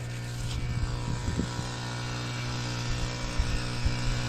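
A grass cutter runs steadily while trimming garden plants, its motor a continuous droning whine with brief rough bursts as it bites into growth, moderately close.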